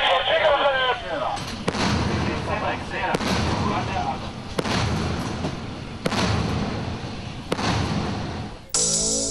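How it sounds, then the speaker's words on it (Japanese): A heavy naval gun on the Japanese Aegis destroyer Myoko (DDG-175) fires several times at a steady interval, heard from the bridge, each deep boom rumbling over a constant loud background roar, with faint voices at the start. "今大砲の弾が発射されました。"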